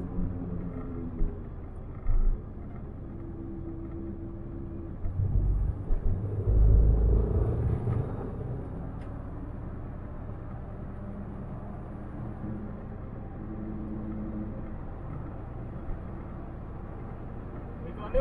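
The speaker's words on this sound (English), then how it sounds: "Transmission or rear disc noise up in fifth gear there." A 1970s-style Ford Capri cruising in fifth gear gives a low, steady drivetrain rumble from the transmission or rear discs, with a brief louder surge midway and someone talking over it.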